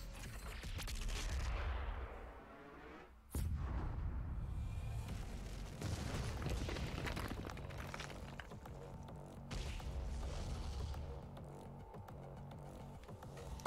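A heavy cannon blast from DOOM Eternal booms loud after an override loading sequence, followed by rumbling echoes and sustained low roar.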